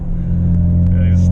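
A 6th gen Chevrolet Camaro convertible engine holds a loud, steady low drone through a gear shift, heard from inside the car with a person talking over it.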